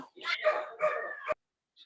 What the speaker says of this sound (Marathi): कमीत कमी म्यूट करा किंवा कुत्र्याला गप्प बसवा